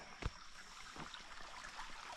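Water streams out of a pipe into a farm pond, a soft steady trickle and gurgle heard close by, with a brief thump near the start and no talking.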